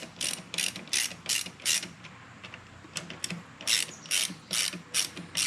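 A hand ratchet loosens clutch pressure-plate bolts on a Harley-Davidson, giving close, crisp clicking in short repeated bursts of four or five strokes with brief pauses between, alone and fairly loud.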